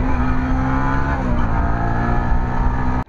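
Honda Winner X 150 motorcycle engine revved for a rev match, a loud close steady drone with a slight pitch dip midway, cutting off abruptly at the end.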